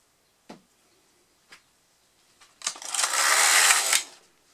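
A Passap knitting machine at work: two light mechanical clicks, then a loud, close, rushing sweep of the carriage lasting just over a second before it stops.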